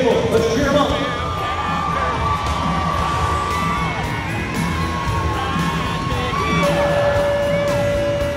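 A rodeo crowd cheers for a cowboy, with whoops and yells over a steady roar of noise while an announcer talks.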